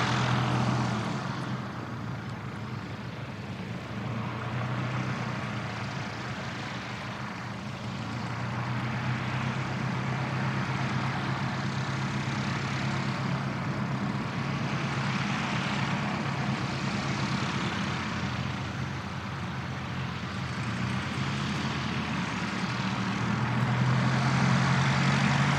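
A light training aircraft flying circuits on a fine day at Christchurch Airport, its engine a steady, broad drone that swells and eases slightly over a long stretch without breaks, moderately loud and unaccompanied by talk.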